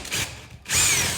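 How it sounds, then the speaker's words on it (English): A power drill bores a small hole into a house wall for doorbell wiring, a short whir that stops briefly and then spins back up loud and close. "we're gonna try to drill a little hole, just enough room"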